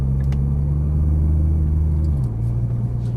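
A Nissan GT-R sports car engine idles at low speed with a deep, steady rumble close by, then the pitch steps down slightly as the car eases along.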